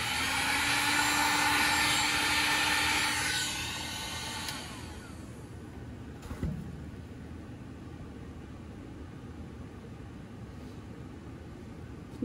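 A heat gun blows hot air across resin with base cell activator: a steady, loud, airy roar for about three seconds, then a much quieter hiss that continues, broken by one faint click.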